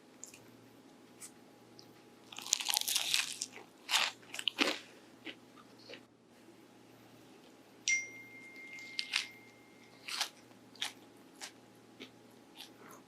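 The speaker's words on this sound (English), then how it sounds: "Let me take a bite and you can hear that crunch." Crisp bites into a crispy KFC-style zinger burger, several sharp crunches followed by scattered chewing crackles, close and fairly quiet with no talking.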